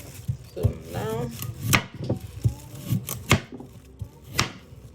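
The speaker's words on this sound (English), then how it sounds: "it's time to cut the onions. Same way, you just cut the onions." Knife chopping onions on a wooden board, with irregular sharp thuds close by, about a dozen across a few seconds, while a person speaks quietly in a kitchen.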